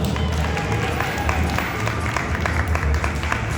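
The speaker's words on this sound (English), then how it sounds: "Everyone, let's cheer for Scott." A live audience at a comedy and card-trick show applauds and cheers for a volunteer named Scott, a dense continuous wash of clapping and crowd noise with voices mixed in.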